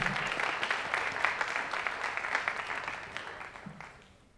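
An audience applauds at a senior awards and cording ceremony, a steady wash of clapping from a large crowd in a hall that gradually fades out.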